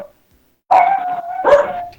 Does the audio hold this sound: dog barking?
yes